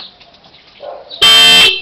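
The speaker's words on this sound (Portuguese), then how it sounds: "Agora buzina a moto." A horn on a child's toy motorbike sounds once, a loud, sustained electronic honk that starts abruptly after a quiet stretch with faint background sounds.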